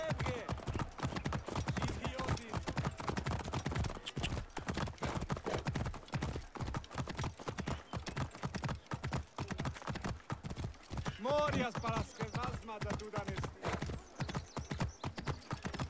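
Horse hooves gallop in a steady, dense clip-clop rhythm across open ground in Assassin's Creed Origins, loud and close throughout, with a brief whinny near the end.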